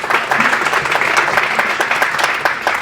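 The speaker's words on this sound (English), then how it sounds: "Give Karma a round of applause." An audience at a women-in-tech panel event applauds as a panelist comes to the stage, a short burst of close, lively clapping with distinct individual hand claps throughout.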